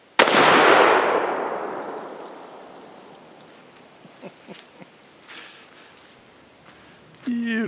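A single loud rifle shot cracks from the right-hand barrel of a double rifle, decaying over a couple of seconds, then quiet outdoor ambience with a few small knocks and a faint voice-like sound at the end.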